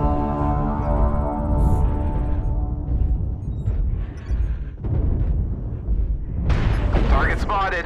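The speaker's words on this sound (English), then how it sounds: "Artillery strike activated." Video-game artillery shells land as a string of deep, rumbling booms and roars that last throughout, with a few sharper bursts near the end. A voice speaks over the blasts.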